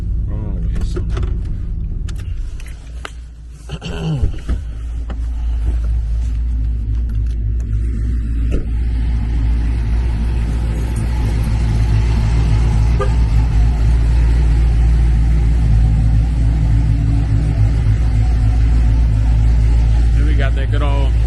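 A Cadillac V car's exhaust rumbles low and steady, swelling into a louder sustained drone as it revs, with a person talking over it early on.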